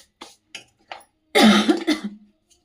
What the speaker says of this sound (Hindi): ठंडक के कारण खांसी आ रही है